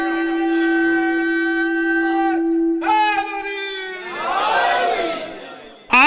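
A crowd at a religious gathering chants the slogan Ya Ali in unison, drawn-out sustained voices rising and falling, then a surge of louder overlapping shouts near the end.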